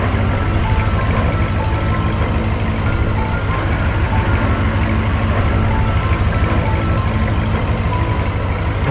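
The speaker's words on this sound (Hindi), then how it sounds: "इधर गुल्ली बुल्ली गाड़ी में बैठकर शॉन को बचाने के लिए इधर ही आ रहे हैं।" Animated-story car driving up, heard as a steady loud engine rumble with a continuous low drone and faint tonal beeping on top, running unbroken throughout.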